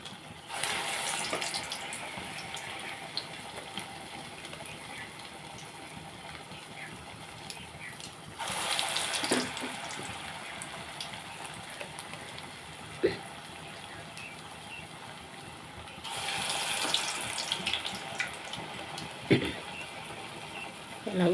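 Tap water runs in short gushes while hands are wetted at a kitchen sink, three distinct bursts of splashing between quieter stretches, with a voice talking softly throughout.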